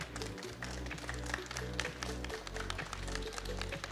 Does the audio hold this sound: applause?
yes